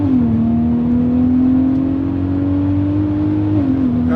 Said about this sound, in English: That's what burning fuel sounds like